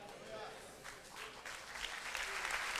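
A church congregation applauds at a moderate distance, a dense wash of clapping that builds slightly toward the end.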